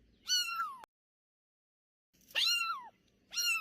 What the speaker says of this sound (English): She was crying, meow, meow.